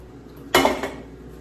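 Dishes and a baby's leftover milk bottles clatter together once while being washed by hand, a single sharp knock and rattle that quickly fades.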